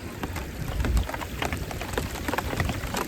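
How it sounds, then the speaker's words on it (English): Steady rain falls and patters during a storm on a solo canoe trip, a continuous broadband hiss with scattered drop impacts and a low rumble underneath, moderately loud and close, with no talk. "Yeah, here comes the rain."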